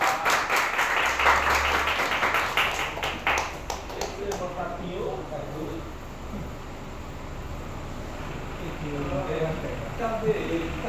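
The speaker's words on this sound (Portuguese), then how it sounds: "aplausos ao nosso grande Deus" Applause from a church congregation, dense and loud for the first few seconds and then fading into scattered claps and crowd noise, with voices talking through it.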